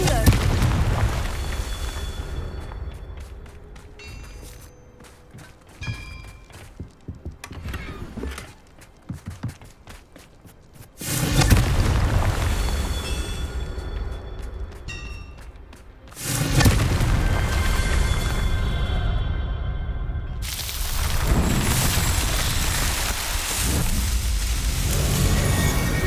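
Booming fire-spell blasts from Confringo in the video game Hogwarts Legacy, several loud bursts with roaring tails, separated by quieter gaps of game ambience and effects.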